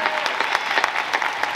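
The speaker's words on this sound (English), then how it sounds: "How about a round of applause?" An audience at a Q&A session with UFC fighters gives a short burst of dense, steady applause, moderately loud and evenly textured throughout.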